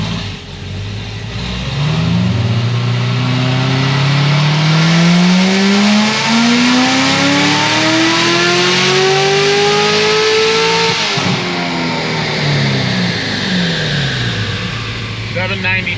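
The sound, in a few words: Chevrolet Corvette C7 Z06 engine revving on dyno pull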